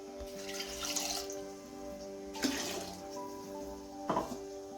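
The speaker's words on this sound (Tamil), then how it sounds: "இந்த அளவுக்கு தண்ணி ஊற்றிக்கலாம்" Water from a tap pours into a cooking pot in a home kitchen while a chow chow kuzhambu is being made, sounding as a few short, quiet splashing bursts against a faint steady hum.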